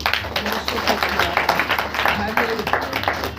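A church congregation claps along during a Saturday prayer meeting, a steady rhythmic run of hand claps mixed in with voices.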